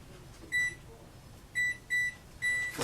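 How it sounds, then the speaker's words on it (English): Four short electronic beeps from an oven timer being set for slow-roasting barbecue pork at 250, evenly spaced in a quiet kitchen, the last held slightly longer, with no talking. "And I'll just set a timer"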